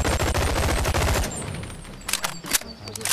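Rapid bursts of gunfire from weapons in the BONELAB VR video game, loud and dense for the first second, then thinning into a few sharp separate shots while a voice talks underneath.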